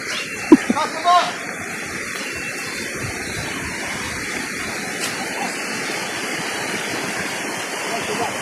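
A river rushes steadily near a bridge in General Nakar, Quezon, a loud continuous broadband roar throughout, with a few brief knocks near the start.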